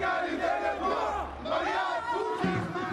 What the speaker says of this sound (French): Les cris montent d'un cortège qui rassemble des milliers de personnes.